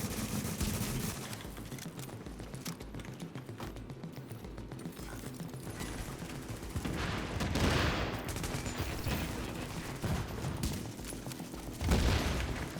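Gunfire in the video game The Division, with several bursts of shots and a couple of louder cracks around the middle and near the end, set over a busy, dense game soundscape.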